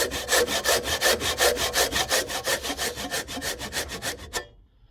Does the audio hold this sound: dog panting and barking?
no